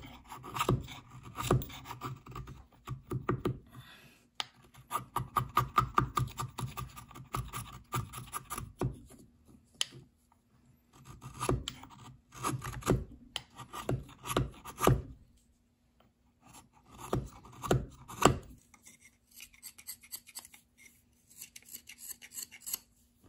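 A wooden netsuke shaped like a bean is hand-carved with a blade, giving close, dry scraping and rasping cuts in irregular bursts with short pauses between strokes and no voices.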